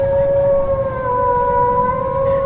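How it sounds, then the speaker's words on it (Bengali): Dogs howling in long, drawn-out wails that hold steady and loud the whole time, with a faint higher tone above. "চারিদিক থেকে শুধু কুকুরের"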